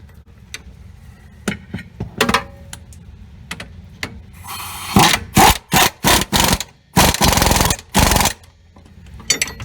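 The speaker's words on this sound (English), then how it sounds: "Now I'm going to come in here with my impact gun, 19mm, and my wrench." A 19mm impact gun tightens a rear strut bolt on a car during strut and spring replacement, firing about six loud, rattling bursts in a row after a few lighter metallic clicks and clanks of tools.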